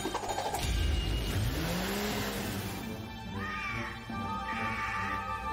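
A cartoon cat meows a couple of times amid busy background sound effects and music, the meows rising and falling in pitch.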